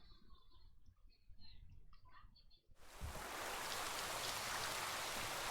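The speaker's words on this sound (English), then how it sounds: "it's drizzling" Drizzling rain in The Witcher 3 comes in as a steady, dense hiss that starts abruptly after a stretch of quieter game ambience with soft tonal sounds, then stays loud and constant to the end.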